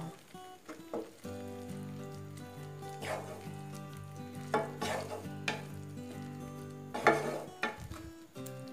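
Wheat rava upma is stirred in a pan, with a soft low sizzle and intermittent scraping strokes of a spoon against the metal, close and fairly quiet, under a faint musical background.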